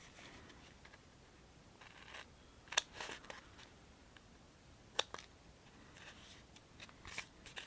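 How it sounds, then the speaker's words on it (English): Scissors trimming tape during a furniture build, a few sharp snips and rustles spaced apart, close but fairly quiet against a still room. "I'm gonna have to trim that tape also"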